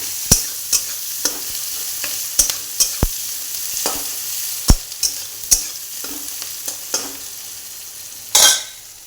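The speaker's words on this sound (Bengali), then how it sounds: "ওই গরম তেলে আমি পেঁয়াজগুলো ভেজে নেব মাছ ভাজার তেলটাতে" Onions fry in hot oil left over from frying fish for a fish curry, with a steady bright sizzle. Sharp, irregular clicks of a spatula stirring against the pan punctuate it, and one louder scrape comes near the end.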